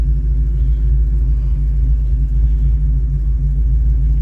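A manual transmission car's engine gives a steady, close, heavy low rumble throughout, with no obvious rev change and no talk.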